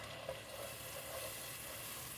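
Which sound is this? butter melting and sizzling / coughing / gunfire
butter melting and sizzling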